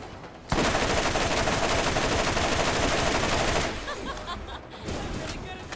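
Rapid bursts of fast-firing weapon gunfire in the Borderlands video game, a dense continuous stream of shots lasting several seconds, then fading into quieter trailing shots.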